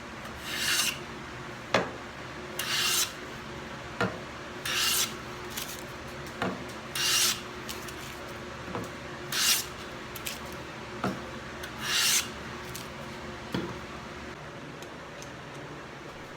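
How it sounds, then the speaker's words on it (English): A number 5 hand plane joints the edges of short 2x4 pieces in repeated rasping strokes, about a dozen steady passes with short pauses between, close and with no voices. "I went ahead and just took my number 5, and since the pieces are pretty short, I used that to joint the edges"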